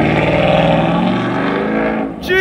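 A Ford Mustang GT with a 5.0 liter V8 gives a loud, close, throaty engine roar that holds steady and then dips briefly before picking up again at the very end.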